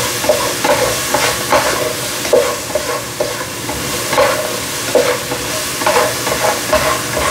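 Onions sizzling in a skillet or pot for beef stew, with a constant frying hiss and repeated close scraping and stirring strokes of a utensil against the pan bottom, no voices.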